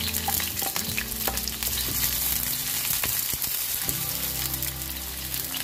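Chopped onions frying in hot oil in a pan, a dense continuous sizzle with crackling pops and occasional stirring scrapes, close and fairly loud throughout, no talking.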